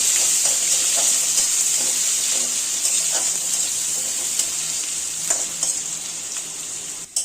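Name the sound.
frying nigella seeds, crushed garlic, onion and green chilies in oil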